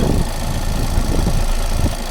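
A Volkswagen Transporter T6 van engine idling loudly and steadily close by, a constant low rumble with broad mechanical noise and no speech.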